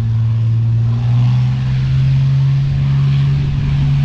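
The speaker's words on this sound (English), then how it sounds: "Now that is an engine." A powerful engine hums loudly and steadily, holding a constant pitch with a slight swell, heard up close with no talking over it.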